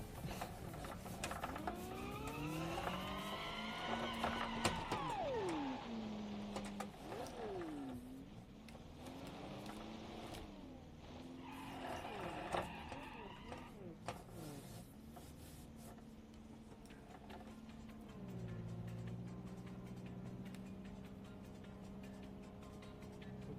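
Engine sound from a car in the simulation game Automation, heard as a rising and falling harmonic whine that revs up and settles repeatedly, then holds a steadier note near the end, loud and close with no talk over it.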